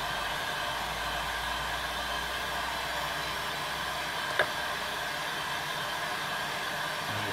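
A hot air welding gun blows a steady, even hiss over a polyethylene strip during a DIY kayak repair. The airflow stays constant and close, with one tiny click partway through.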